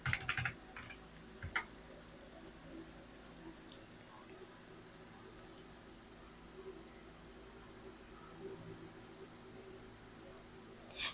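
Soft, quick taps of typing on a computer keyboard, faint and close, running steadily over low background hiss.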